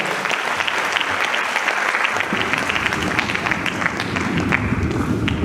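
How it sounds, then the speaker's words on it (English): At a university language conference, a large audience breaks into sustained, dense applause that runs unbroken and loud throughout, swelling slightly with a fuller crowd rumble in the second half; no one speaks. "Distinguished ladies and gentlemen, a round of applause for him."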